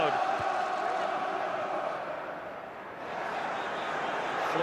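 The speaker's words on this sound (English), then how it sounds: "Just listen to the crowd." Football stadium crowd during a match: a broad, continuous roar of many voices that dips briefly in the middle and swells back up, filling the whole stretch.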